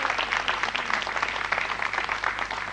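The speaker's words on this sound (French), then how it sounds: "On applaudit M. Lima, s'il vous plaît." An audience applauds M. Lima, a legendary Dakar figure, at a Cape Verdean community gathering in Senegal: dense, sustained clapping that holds steady throughout with no voices over it.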